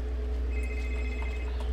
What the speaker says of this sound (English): And our phone's ringing.